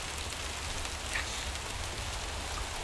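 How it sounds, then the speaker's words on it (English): Steady rain falls in the Pacific Northwest, a constant soft hiss of drops on surfaces with no pauses, fairly quiet and even. "So it's raining."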